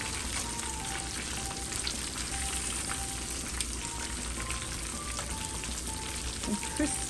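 Tilapia fillets coated in mustard fry in hot oil after being turned, giving a steady, dense sizzle and crackle throughout, with a few faint clinks near the end.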